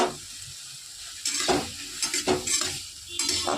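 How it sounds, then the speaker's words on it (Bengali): Tomato, green chilli and roasted cumin spice mix sizzle in butter in a pan, with bursts of spoon-stirring scrapes over a low steady fry. "ভালো করে নেড়ে নেবো আর একটু সেদ্ধ করে নেব"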